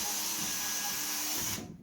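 Cordless drill spinning pipe cleaners inside copper radiator pipework, a steady high-pitched whirring buzz that runs continuously and then cuts off near the end.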